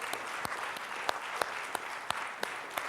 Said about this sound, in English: Can we applaud these people?